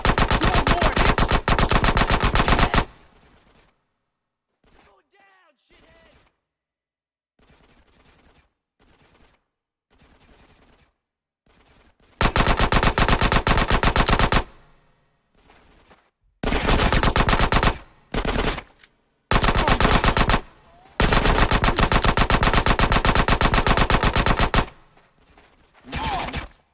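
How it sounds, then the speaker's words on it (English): Machine-gun and rapid gunfire bursts in a GTA San Andreas Definitive Edition shootout, loud sustained volleys broken by short quiet gaps with faint sounds between them. "Get some suppressing fire in there."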